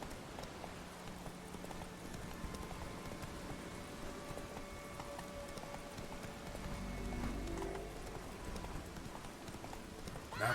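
Roach, a horse in The Witcher 3, gallops with continuous clip-clopping hooves at a moderate distance over a low rumbling ambience, swelling briefly toward the end.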